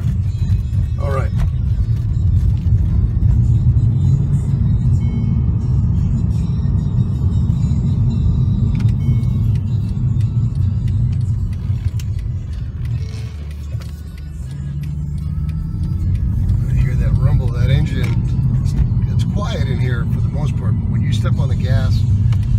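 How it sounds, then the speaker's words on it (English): A 2012 Mercedes-Benz C63 coupe's engine rumbles loudly and steadily from inside the cabin, swelling as it accelerates, with brief talk near the end. "Step on the gas, that's something that you definitely can hear."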